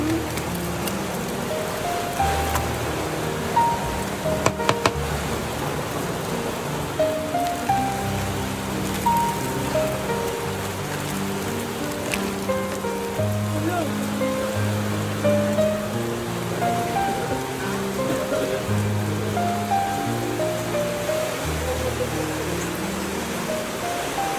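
Heavy typhoon rain pours in a steady, dense hiss on surfaces, continuous and close throughout, with occasional louder drips and faint tonal sounds in the background.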